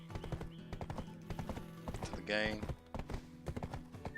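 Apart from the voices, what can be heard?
horse hooves clip-clopping in a video game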